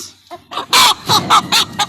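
Several close, abrupt clucks and squawks from four-month-old Columbian Brahma chickens in quick succession, loud and nearby.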